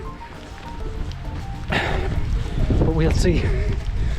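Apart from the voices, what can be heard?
strong wind on a mountain walk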